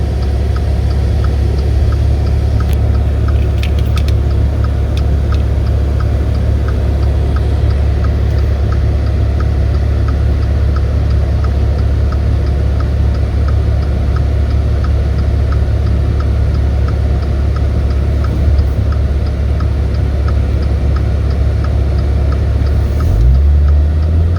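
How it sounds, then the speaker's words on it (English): 2015 Maserati Ghibli S Q4 with a 3.0-liter twin-turbo V6, heard from inside while driving: a steady low engine and road drone with faint ticking, continuous and fairly loud, with no talk. "Take it for a little spin right now, and then you can see how nice it drives"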